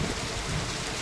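Unseasonal rain driven by wind pours in a dense, steady hiss with no pauses, heard alone for a brief moment and with no talk.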